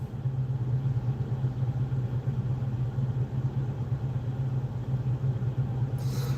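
Car being driven, a steady mid-low engine drone and road rumble continuing at an even level from inside the vehicle, with no talking.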